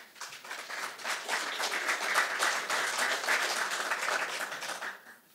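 Steady applause with scattered cheers rolls through a large audience during a speech on national economics, loud and sustained before easing off at the end.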